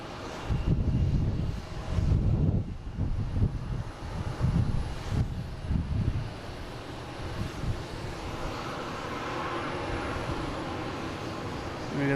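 A jet airliner departs Boston Logan bound for Rome. Gusty, rumbling engine bursts come first, then settle into a steadier, fading roar with some wind noise at the microphone.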